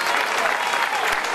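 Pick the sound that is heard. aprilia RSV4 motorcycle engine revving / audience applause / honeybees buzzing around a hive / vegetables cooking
audience applause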